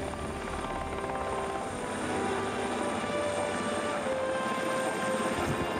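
A helicopter flies steadily overhead, its rotor thump and turbine whine holding a continuous, fairly loud drone that swells slightly midway with no voices.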